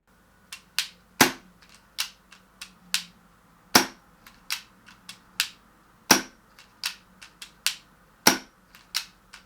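Ascend Ninja 23 airsoft pistol replica fitted with a modified ST23 baffled silencer, fired repeatedly: sharp, dry snapping shots in an irregular string, a few louder cracks among softer clicks, close and alone.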